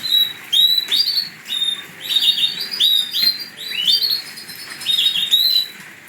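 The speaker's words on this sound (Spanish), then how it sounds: "Parece como cuanto más aprieta, los pájaros, los machos apretan más el canto." Male birds sing close by on a grey, humid day, repeating bright chirping phrases in rhythmic bursts with short gaps between them, loud and clear over faint background ambience.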